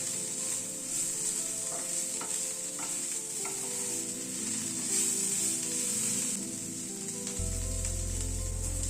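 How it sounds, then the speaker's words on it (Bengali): Bitter gourd and potato fry in an open pan over a raised gas flame, giving a steady close sizzle broken by scraping stirs, with a low hum that swells near the end. "গ্যাসের ফ্লেমটাকে একটু বাড়িয়ে দিয়ে উচ্ছে আর আলুটা ভালো করে ভেজে নেব"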